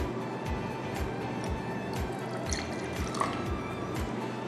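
Barium chloride solution being poured into a beaker of sodium sulfate solution, a steady liquid trickle with small repeated drips and splashes running throughout, close and fairly quiet.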